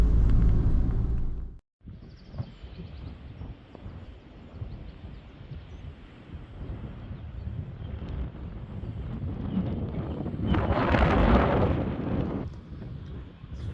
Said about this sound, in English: Very windy and cold.